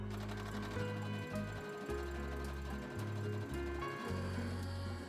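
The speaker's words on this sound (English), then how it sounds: "sew them at the crotch seam using a zigzag stitch" A sewing machine zigzag stitches the crotch seam of stretchy bikini bottoms, running in a fast, steady mechanical whir with short stop-and-start pauses, close and alone.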